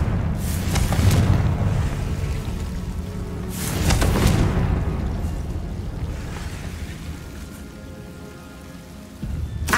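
Confringo fire-spell blasts in the Hogwarts Legacy video game: a dense, rumbling burst near the start, a second loud explosion around four seconds, and a fresh impact at the very end over a continuous crackling wash.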